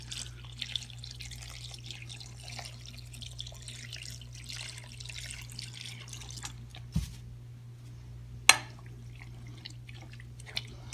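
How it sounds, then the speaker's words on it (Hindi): Water runs and trickles steadily into a cooking pot of meat close by, with a low hum underneath and a sharp clink near the end. "और इसके बाद इसमें पानी ऐड करेंगे।"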